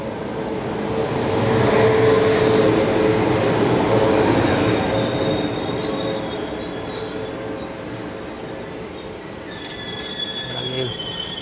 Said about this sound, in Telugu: ట్రైన్ ఒకటి వస్తుంది అటు సైడ్, శబరి ఎక్స్ప్రెస్